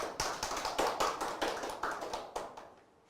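Applause from an audience at a lecture on drinking toasts: a steady patter of fairly close hand claps with irregular sharp onsets, holding for about two and a half seconds before fading out quickly.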